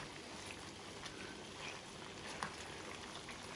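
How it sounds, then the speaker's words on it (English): Brown stew chicken simmers in a pot, giving a steady soft bubbling and sizzling hiss with a few small pops and no talking. "It's bubbling away nicely, so let's put on the lid."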